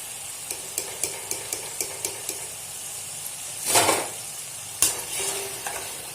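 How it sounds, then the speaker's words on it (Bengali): Potato French fries hiss softly in hot oil, with a run of light regular taps from a utensil against the pan and a couple of louder scraping, rustling bursts of handling, close and moderately quiet. "আর বাকি যে আলুটা আছে এই একইভাবে ভেজে নেব।"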